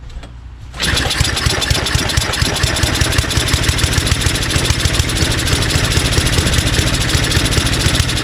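A Tecumseh 5HP engine on a Simplicity 24-inch dual-stage snowblower, fitted with a new carburetor, fires up on choke after a brief quiet moment and settles into a loud, steady, close-up chugging run.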